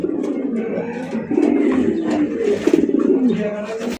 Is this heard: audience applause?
no